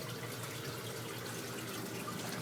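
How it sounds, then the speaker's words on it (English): A small sump pump in a flooded Muskoka basement drives water out through a hose, a faint steady wash of running water with a low hum underneath. "this little guy is pumping the water out through this hose"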